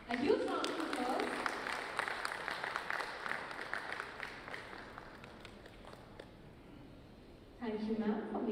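Audience applause at a live awards event as a sustainability ambassador is invited on stage, a steady wash of clapping lasting several seconds that thins out before rising again briefly, with voices mixed in.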